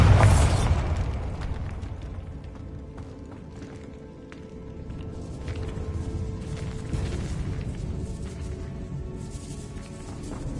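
A Bombarda blasting spell goes off in the Hogwarts Legacy video game, a loud blast at the start followed by rumbling debris and crumbling rubble that rises again later.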